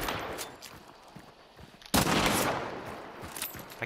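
Gunfire in the video game Hunt: Showdown: a burst of scattered shots followed by a sudden loud, close blast that rings out and fades over the next couple of seconds.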